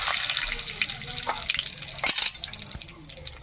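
Bay leaf, cardamom, cinnamon and cloves drop into hot mustard oil for biryani, giving a close, steady sizzle with scattered crackles and pops that gradually softens.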